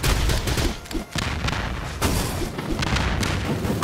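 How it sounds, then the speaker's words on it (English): Gunfire from a gun in the action game Cat Quest 3 rattles out in dense, repeated blasts and booms, loud and continuous with brief dips between bursts. "I got a gun here."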